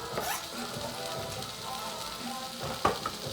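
Meat substitute and thinly sliced tomatoes sizzle and fry in a hot pan, a steady close crackle with a few stirring clatters and one sharp knock near the end.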